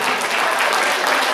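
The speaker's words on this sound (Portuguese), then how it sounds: "Grande salva de palmas para o Graça." An audience applauds a saxophonist at a show opening in a hall in Walferdange, Luxembourg: dense, loud, sustained clapping from many hands filling the whole moment.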